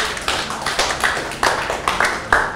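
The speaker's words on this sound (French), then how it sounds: "Applaudissez pour les gens qui ont les lips." Several people clap in short, uneven bursts in a small seminar room, with distinct, fairly close claps recurring every half second or so rather than a dense ovation.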